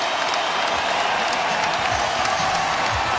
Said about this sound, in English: those who remain now beginning to stand and applaud the 15th consecutive win by the Houston Rockets